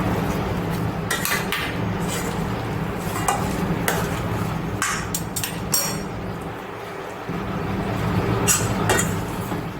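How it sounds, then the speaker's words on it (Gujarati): A papad and potato snack mixture is stirred in a pan, with intermittent metallic clinks and scrapes of the spoon against the pan over a constant background hum. "હવે આપણે બધું નીચે ઉતારીને મિક્સ કરી લઈએ આ રીતે"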